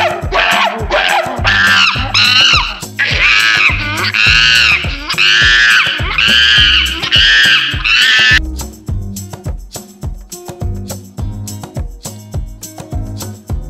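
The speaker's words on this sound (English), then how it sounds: "And the sound of the monkey is..." A monkey lets out a rapid series of loud, shrill screeching calls for several seconds, then a rhythmic music beat carries on alone.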